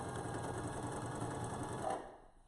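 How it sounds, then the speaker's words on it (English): A sewing machine runs steadily as it stitches a quilt toward a seam intersection, a continuous whirring hum for about two seconds before slowing and cutting off near the end. "I'm gonna keep stitching till I get to this seam intersection here."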